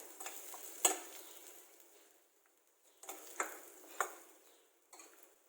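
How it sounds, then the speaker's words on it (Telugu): Finely chopped green chillies fry quietly in a pan, a soft sizzle with several sharp stirring scrapes and clinks of the spoon. "సన్నగా తరిగిన మిర్చి, పచ్చిమిరపకాయలు కొంచెం వేగనిద్దాము"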